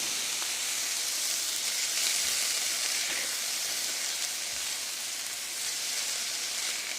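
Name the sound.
food sizzling while cooking for Philly cheese steak casserole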